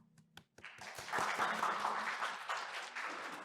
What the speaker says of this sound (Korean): 박수로 함께 들어보겠습니다.